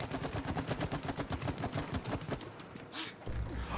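Rapid continuous weapon fire in the It Takes Two video game, a loud rhythmic stream of shots for about two and a half seconds that then stops, leaving quieter game ambience.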